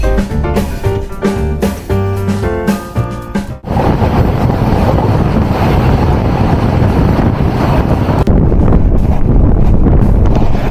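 The Rupsha Express passenger train runs between Chilahati and Saidpur in Nilphamari, Bangladesh, kicking up dust. A loud, close, continuous roar and rumble is heavily buffeted by wind, with no speech.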